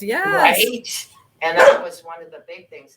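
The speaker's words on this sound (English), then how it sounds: "excuse my dogs" Pet dogs bark and yip in a few sharp bursts close to the microphone, mixed in with someone talking over them.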